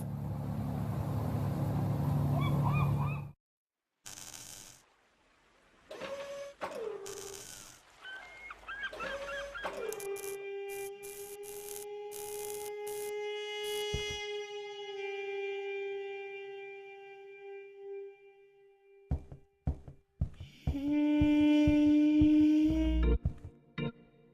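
A bird in the adventure game The Journey Down lets out long, goose-like honking squawks, drawn-out tonal cries broken by gaps and a burst of rapid honks near the end, loud and close.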